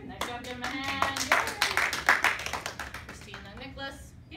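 Applause for students in a classroom: a brief round of hand clapping from a small group, quick irregular claps building then tapering, with voices mixed in.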